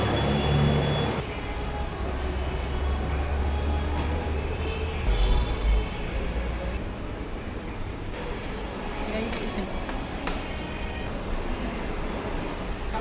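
A train at a station in Malaysia produces a steady, loud rumble that fills the whole stretch, with a low heavy roll at the start and faint squeals and clanks on top.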